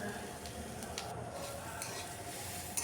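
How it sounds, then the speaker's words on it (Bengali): Kerala-style fish curry with spices frying and being stirred in a pan, a steady sizzle with scraping stir strokes throughout and a faint clink near the end. "মশলা দিয়েও এটাকে খুব ভালো করে কষিয়ে নিচ্ছি।"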